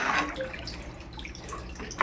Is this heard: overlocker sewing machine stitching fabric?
no